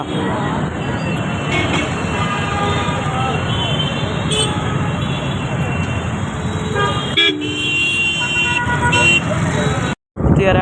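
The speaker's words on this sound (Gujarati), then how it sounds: "ટ્રાફિક અહીં જોરદાર." Heavy road traffic at a busy crossroads makes a continuous loud rumble of engines, with car horns honking again and again in short and sustained toots.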